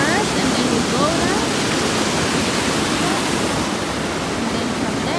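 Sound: river flowing at Rockwood Conservation Area

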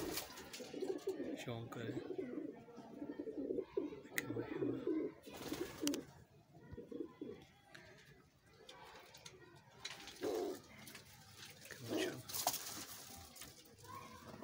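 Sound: Bagla breeder pigeon cooing

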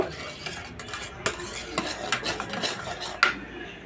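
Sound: stirring oil and salt in a bowl

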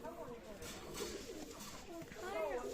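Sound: pigeons cooing

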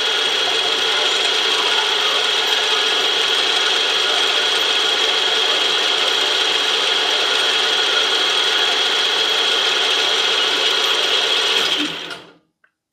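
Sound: milling machine running with an edge finder

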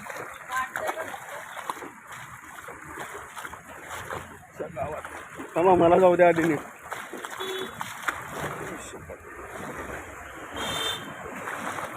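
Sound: walking through flowing floodwater

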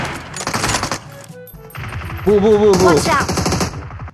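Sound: gunfire from the video game PUBG Mobile

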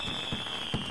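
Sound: fireworks in the video game What's Under Your Blanket

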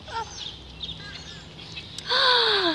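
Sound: ducks at a pond eating crackers

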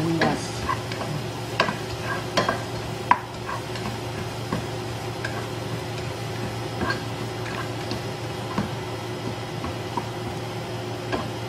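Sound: onions sautéing in a pan

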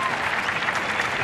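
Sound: audience applause at a murga performance

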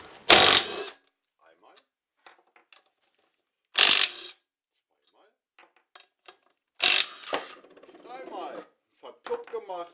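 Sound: impact wrench loosening a bolt on a Peugeot Elyseo 125 scooter

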